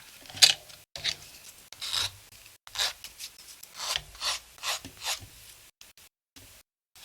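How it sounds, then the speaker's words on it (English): A plastic part from a Minicraft 1/144 B-29 Superfortress model kit is sanded by hand in short, close rasping strokes, about a dozen in an uneven rhythm with brief pauses and no talking. "We need to sand down."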